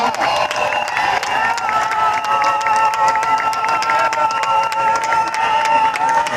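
Audience at a public administration award ceremony applauding a vice-prime minister: steady dense clapping from a crowd, continuous and fairly loud throughout with faint voices mixed in.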